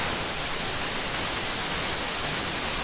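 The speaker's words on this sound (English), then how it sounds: "Ooh, white noise modulated with white noise." Synthesized white noise in a deep house music production session: a steady, dense, loud hiss spread evenly across the whole range, unchanging and unpitched, with no voices over it.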